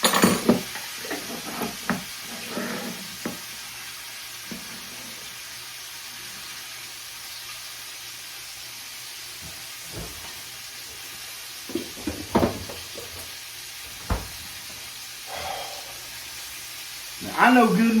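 Garlic sizzling and frying in a pot while making canned steak and potato soup, a steady hiss with occasional stirring scrapes and clinks.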